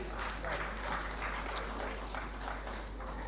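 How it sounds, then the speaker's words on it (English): Applause from a conference audience at the first plenary session of an international sustainability education conference: steady clapping from a crowd, moderately distant, filling the whole short moment. "Please put your hands together for him."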